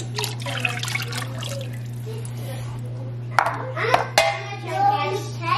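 Diluted rennet being poured into milk and gently stirred for a natural alpine cheese, soft liquid swishes and trickles rising in the second half, with a steady low hum underneath and a voice talking at first.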